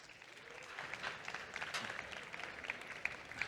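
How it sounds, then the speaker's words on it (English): A conference audience at a DeFi talk applauds as a speaker is introduced, a soft, steady patter of many hands heard from a distance, with no voices. "Please give a big, big, big round of applause for Stani"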